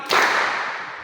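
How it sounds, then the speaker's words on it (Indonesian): One sharp hand clap from a group of pupils in a classroom clapping game, a single sudden smack with a short trailing decay and no voices. "ketika saya bilang tepuk pagi, berarti tepuknya sekali"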